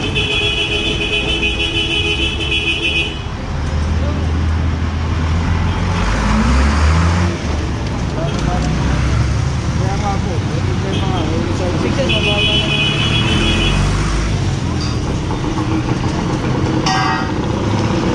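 Busy street traffic with tricycles at the corner of Kurumi Street and Inaman, a steady roar of small motors and passing vehicles with occasional horn toots, voices talking over it throughout.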